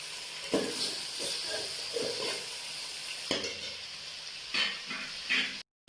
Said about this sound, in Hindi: ये भी 5 मिनट के लिए भूनूंगी, अदरक लहसुन का पेस्ट भी